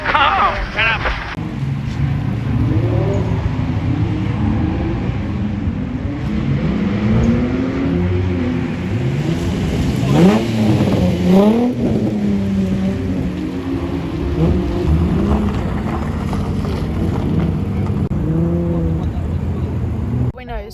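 Car engine revving and tyres working during a drift session at Rockingham track day, a loud sustained engine note with rising and falling pitch sweeps throughout, with people talking over it.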